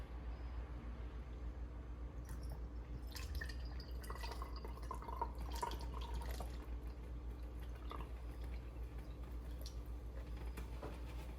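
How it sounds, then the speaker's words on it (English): Homemade rosemary hair oil is poured from a bowl into a bottle, giving a soft, continuous trickling and dripping, faint and close, with no talk. "I'm going to pour the oil from this bowl in here."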